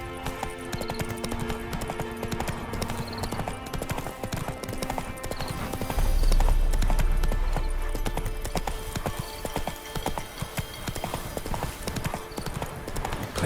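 Roach, Geralt's horse in The Witcher 3, gallops in steady rhythmic hoofbeats under game music, with a brief whinny and a swelling low rumble midway.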